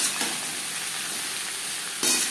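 Pieces of ash gourd fry and are stirred into a mustard tempering in a pan, giving a steady close sizzle with a louder burst of frying near the end.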